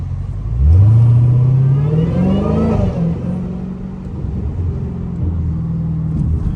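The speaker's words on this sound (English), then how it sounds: "what else I can do to make my supercharger whine louder" A straight-piped, supercharged Dodge Hellcat engine revs hard: a loud rising roar that climbs in pitch for about two seconds, then settles into a steady, heavy idle rumble with faint supercharger whine.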